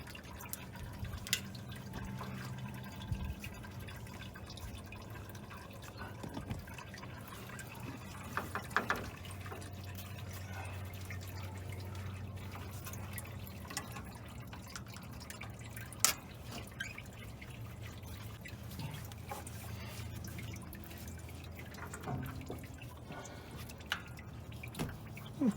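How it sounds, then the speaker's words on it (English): Coolant dripping from a Ford F100 engine as it drains during a water pump replacement, with scattered small drips and splashes over a low steady hum, fairly faint and continuous throughout. "With the coolant just about drained"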